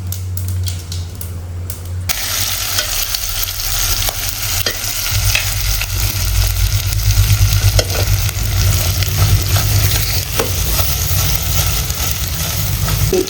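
Okra hits sizzling oil as a tempering is poured over it: quiet at first, then a sudden loud burst of frying erupts and continues as a close, busy sizzle with stirring clatter throughout.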